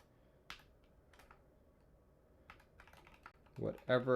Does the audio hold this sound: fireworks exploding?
no